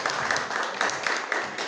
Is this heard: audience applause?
yes